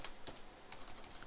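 Rapid, uneven clicks of fingers typing on a computer keyboard, close and fairly quiet, filling about a second with no voice over them.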